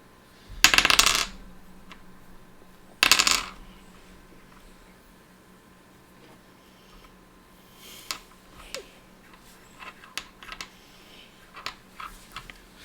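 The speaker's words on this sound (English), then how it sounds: "It's a Bitcoin dice." A Bitcoin-themed die handled and dropped, giving two bright clattering impacts up close, then quieter scattered clicks and taps over a faint room hum, with no voices.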